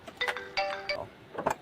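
A phone ringtone chimes in a short electronic melodic pattern, two or three bright tonal bursts close and clear, with no voices over it.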